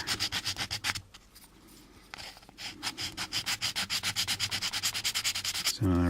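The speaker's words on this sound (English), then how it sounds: "I'll just use the sandpaper here to get rid of this burr" Sandpaper rubs a burr off a small part for a ghost box build, heard as close, rhythmic back-and-forth scratching strokes that pause briefly before resuming at a steady pace.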